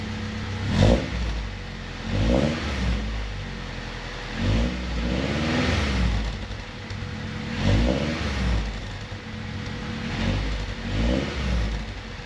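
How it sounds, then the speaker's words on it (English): A B18-swapped Honda Civic with a Yonaka cat-back exhaust and Blox test pipe is revved up close, several separate throttle blips rising and falling over a steady idle, with no talking. "Let me give it a few revs."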